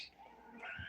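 A small house cat gives a brief, faint meow, soft and close in a quiet room.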